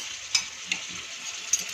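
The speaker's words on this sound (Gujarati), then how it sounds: "હવે આને બરાબર હલાવી લઈશું" A spoon stirs moong dal khichdi in a pot over a soft, steady simmering hiss, with three quick scraping knocks against the metal spaced apart.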